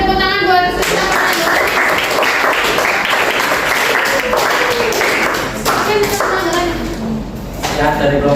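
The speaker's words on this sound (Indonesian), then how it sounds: "Beri tepuk tangan buat Sudah." An audience applauds after a class group presentation with a dense burst of clapping throughout, mixed with voices and excited chatter, close and loud.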